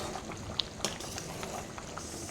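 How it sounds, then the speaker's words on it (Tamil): A rice and dal mixture boiling in a pot, Coimbatore style: a soft, continuous bubbling simmer with a couple of faint pops. "நல்லா கொதிச்சு எண்ணெய் பிரிஞ்சு வருது பாருங்கள்."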